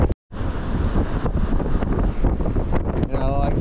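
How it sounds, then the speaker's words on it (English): Strong wind at the Lake Tennyson campsite batters the microphone with a loud, gusty roar that barely lets up after a brief silence at the start. "It's so windy."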